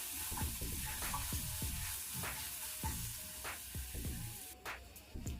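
Green chili and garlic paste frying in a pan, a steady close sizzle with repeated scraping stirs of a spoon at a regular pace throughout.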